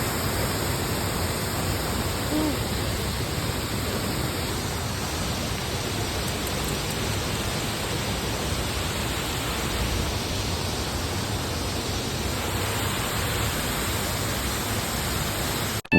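Waterfall roaring in a steady, dense broadband wash, close and loud, with no other sounds over it.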